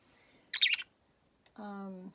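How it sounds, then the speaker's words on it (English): Birds chirp while being fed outdoors on a morning, giving a short burst of bright tweets followed by a held tonal call, close and clear against quiet. "We're just feeding the birds."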